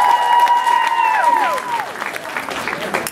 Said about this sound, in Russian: Такого прекрасного поэтического опуса слишком жидкие аплодисменты.